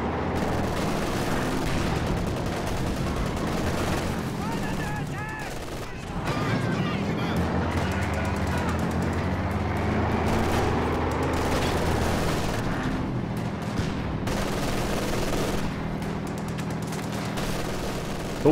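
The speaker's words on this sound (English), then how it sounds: "double MG42 is just ripping through this captain" Twin MG42 machine guns in Company of Heroes 2 rattle in long, dense continuous bursts, loud and close, mixed with explosions and battle noise throughout, with a voice talking over the gunfire.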